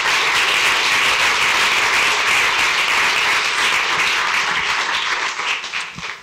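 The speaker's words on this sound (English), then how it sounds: "give a round of applause before we begin for these tremendous folks here" A loud, dense round of audience applause greets the speakers at a panel discussion, sustained and even before tapering off with a few scattered claps near the close.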